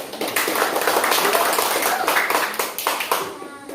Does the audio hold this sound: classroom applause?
yes